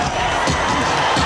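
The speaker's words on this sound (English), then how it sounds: "he hears that 10-second clap, and it's like an alarm going off for him" A boxing ten-second warning clap during the Evander Holyfield vs Ray Mercer heavyweight fight: a few sharp, sudden knocks ring out over a steady roar from the arena crowd.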